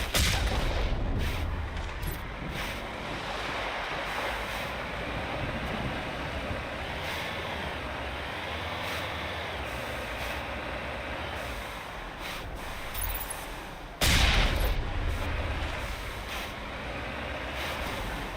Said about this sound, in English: We must find a way to disable their artillery.